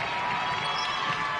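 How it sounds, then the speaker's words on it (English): Auburn basketball crowd cheering in a women's game against Missouri, a loud, dense burst of crowd roar and shouting that holds steady through the short moment. "Crowd comes to life."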